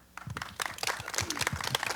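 Audience applause at a talk on Lincoln's life and legacy, a steady patter of many hands clapping that rises after a quiet start and holds fairly loud to the end.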